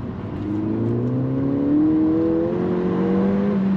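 A Ford Fiesta ST200 engine revs up in a throttle blip, its pitch climbing smoothly and then holding, loud and close with no one speaking.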